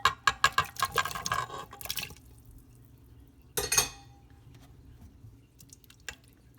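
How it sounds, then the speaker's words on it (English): Chopped potatoes and carrots tumble into an Instant Pot of beef stew, a quick run of wet, splashy plops and clatters for about two seconds, then one more burst, then near quiet. "I'm going to add my potatoes and carrots."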